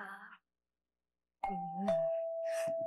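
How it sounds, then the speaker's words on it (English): A brief voice, a pause of silence, then a two-tone doorbell chime rings out and lingers, with faint voices over its tail. "Wasn't that your doorbell?"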